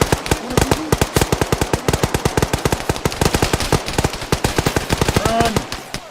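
A heavy machine gunner in ARMA 3 fires long, steady automatic bursts: rapid, evenly spaced loud shots that continue for several seconds with only brief breaks.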